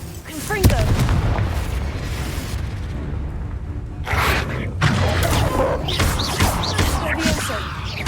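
A Confringo blasting curse explodes in Hogwarts Legacy, loud booming blasts with crackling bursts that hit sharply near the start and again around midway, mixed with busy game effects and no speech.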